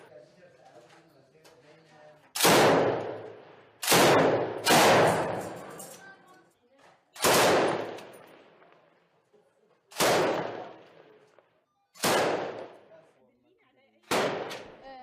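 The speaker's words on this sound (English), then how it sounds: "fires back towards a building where they have spotted enemy snipers" Gunfire from several fighters shooting back at a building holding enemy snipers in an urban combat position: loud, booming single shots roughly every one to two seconds, seven in all, each with a long echoing tail, over faint background voices.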